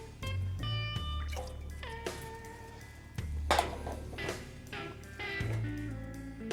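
Orange juice and apple juice are poured for a glaze, making soft, close liquid splashing and trickling in a few separate pours, with no voices.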